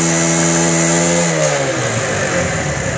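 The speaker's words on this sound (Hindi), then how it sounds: "आरपीएम में फुल थ्रोटल खींचूँगा" A motorcycle with a pickup problem is revved hard at full throttle, the loud, close engine note climbing steadily in pitch, then easing as the throttle drops back.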